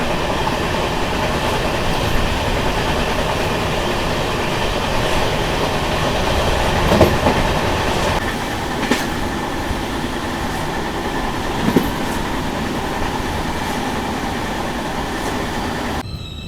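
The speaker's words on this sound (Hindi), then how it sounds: "अभी अपनी ट्रेन पहुंच चुकी है रमन्नापेट रेलवे स्टेशन" Janmabhoomi Express pulling into Ramannapet station in Telangana, a long, continuous close rumble of rolling wheels with scattered clicks and clanks from the rail joints.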